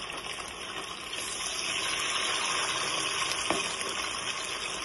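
Chicken pieces for pickle fry in oil on a medium flame, giving a steady, even sizzle that hisses on without pause or stirring.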